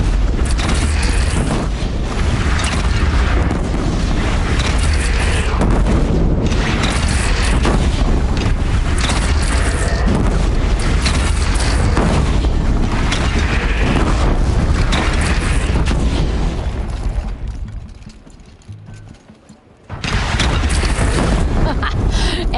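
Loud, rumbling booms and dense battle noise roll on almost without pause in a cannon fight in the video game Horizon Zero Dawn, dipping briefly to near silence before the din returns.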